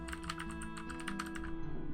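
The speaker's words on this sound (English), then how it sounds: "So now we got a different sounding keyboard." Rapid typing on a computer keyboard with a distinct, different-sounding set of keys, a steady run of close, crisp key clicks that thins out toward the end over a low background hum.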